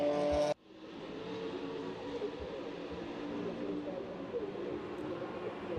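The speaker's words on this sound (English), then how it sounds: "So the GT4 cars come through to lap the Sport Division machinery." GT4 race cars sweep past at Circuit Zolder during a Supercar Challenge race, a steady moderate engine drone heard from a distance after a brief abrupt cut at the start.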